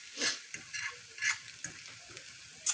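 Eggs pushed around a hot frying pan while making a breakfast sandwich: soft spatula scrapes come in short bursts over a steady, fairly quiet sizzle.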